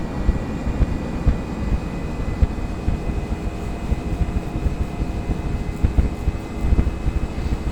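Nimbus Huey UH-1 model helicopter spinning its rotors after startup, a steady, close, whirring drone with a low rumble throughout and no talk.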